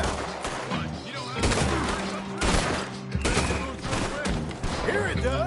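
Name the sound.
gunfire in Red Dead Redemption 2 video game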